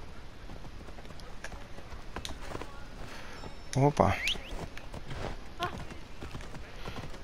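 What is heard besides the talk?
horse galloping in video game Assassin's Creed Odyssey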